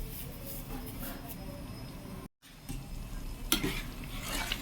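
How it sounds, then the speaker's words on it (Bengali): Spices for aloo dum being stirred and sautéed in a pan, with a soft continuous sizzle and scraping strokes, briefly cut off midway, then louder stirring. "আবারও মশলাটা কষবো।"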